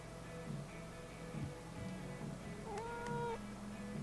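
Cat meowing in Life is Strange: True Colors, a couple of short rising-falling meows near the end over a steady low game ambience, with no talk.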